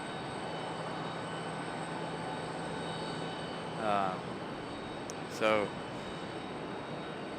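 A Boeing 777 in oneworld livery at Charlotte Douglas International Airport gives a steady, distant engine drone, with brief talk and a couple of short squeaky sounds over it.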